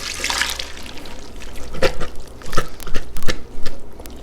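Canned cannellini beans are rinsed under running tap water, giving a soft, uneven trickle and splash with brighter spatters that come and go. No one speaks.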